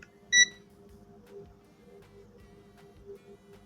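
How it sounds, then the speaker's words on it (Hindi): A clamp meter's continuity beep: one short, sharp electronic tone sounds near the start, then a faint steady hum lingers beneath for the rest. "तो इसका मतलब हमारा क्लाइमीटर बीप ही दे रहा है"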